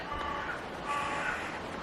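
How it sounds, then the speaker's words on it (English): A crow caws faintly in the distance, a couple of harsh calls over steady background noise. "Hello, Mr. Crow. Don't know if you can hear that."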